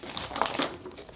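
Stencil material is pulled from a plastic bag, making a quick burst of crinkling and rustling plastic, close by and fairly soft, alone.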